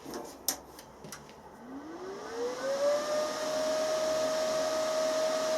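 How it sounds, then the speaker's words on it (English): An R-Tech MIG180 MIG welder powers up with a few sharp clicks, then a rising electrical whine that climbs and settles into a steady, fairly loud tone with fan hum beneath, and no one speaks. "So you will turn your welder on."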